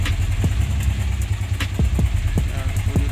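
A used motorcycle idles nearby with a low steady engine rumble, punctuated by a few sharp clicks and knocks over the running motor.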